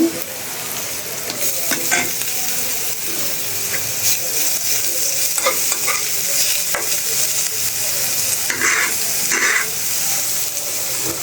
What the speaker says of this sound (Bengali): শুটকি দিয়ে আর একটু ভাজবো